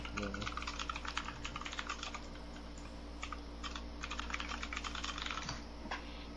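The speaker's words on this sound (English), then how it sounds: "Everyone gets quiet as I start typing" Rapid computer keyboard typing, a dense stream of close crisp key clicks in irregular bursts, heard over a steady low hum with no clear talk.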